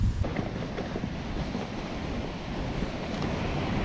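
Sea surf and gusting wind on a fishing shore in a southerly wind of about 4 Beaufort, a continuous loud wash of waves with wind buffeting the microphone and no voices.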